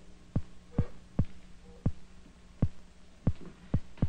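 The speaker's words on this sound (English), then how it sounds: "if we put an electrode at each end of the tank, we can hear the electrical discharge on a loudspeaker" An electric eel's electrical discharge in a tank, picked up by electrodes and played through a loudspeaker, sounds as soft dull thumping pulses at an uneven, roughly half-second spacing over a low steady hum.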